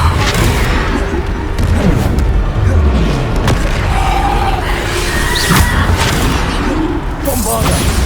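Bombarda explosion spells in the game Hogwarts Legacy make loud booming blasts and crashing impacts during a chaotic fight, layered with battle effects and character voices.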